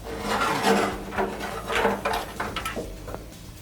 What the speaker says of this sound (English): There's your bag door. It's now open.